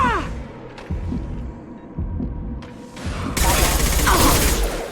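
Bursts of gunfire and impacts from a firefight in the video game Mass Effect 2, with several sharp shots early on and a dense, loud barrage in the final seconds, mixed with game effects.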